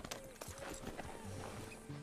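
Horse hooves clop in Red Dead Redemption 2, a brief quiet run of rapid hoofbeats with a faint voice in the background.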